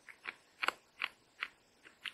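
Crunchy mango-flavoured coconut chips from dried coconut flakes being bitten and chewed close up, seven sharp crisp crunches spaced unevenly over about two seconds, with no talking.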